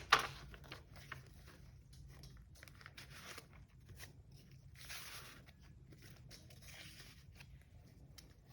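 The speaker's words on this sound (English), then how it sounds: "More crinkly paper." Crinkly old paper is handled for a junk journal, making faint scattered rustles and crackles with a sharper crinkle at the start, quiet and close with no speech.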